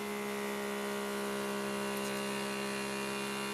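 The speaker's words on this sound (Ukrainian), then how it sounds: "чуєте, як звук міняє сам компресор і повинен зараз вимкнутися" The faulty compressor of a KS-V06 vacuum sealer hums steadily at close range, an even electric drone with a faint mechanical whine and no change in level.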